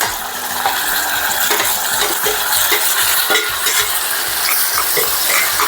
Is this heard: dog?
no